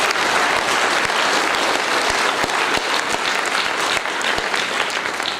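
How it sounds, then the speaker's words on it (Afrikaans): A church congregation applauds during an Afrikaans worship service, sustained crowd clapping with sharp individual claps standing out above the steady roar. "Geef julle self 'n hande klap"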